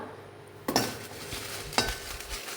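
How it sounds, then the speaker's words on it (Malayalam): About fifteen dried red chillies roasting in a pan for idli podi, with a quiet background hiss and two sharp scraping stirs of a metal spoon against the pan, close by, and no voices. "ഇനി ഇതിലേക്ക് നമുക്ക് ചുവന്ന മുളക് ഒരു പത്ത് പതിനഞ്ച് ചുവന്ന മുളക് ഞാനിതിലേക്ക് ചേർക്കുന്നുണ്ട്"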